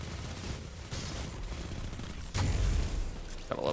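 Muffled bursts of Destiny gunfire and a heavy explosion boom, with rapid crackling shots and thuds in a busy, compressed mix.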